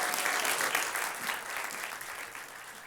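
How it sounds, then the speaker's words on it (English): An audience at a competition event applauds performers, brisk dense clapping that starts strong and gradually eases off. "Big round of applause for the Encores"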